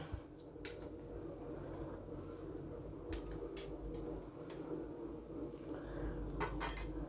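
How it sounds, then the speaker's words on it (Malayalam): A spoon scrapes and clinks softly against a pot as cooked pumpkin and lentils are stirred and mashed, with a faint, steady background hum. "ഇങ്ങനെ ഇളക്കിയാൽ മതി പെട്ടെന്ന് തന്നെ അത് ഉടഞ്ഞു കിട്ടും"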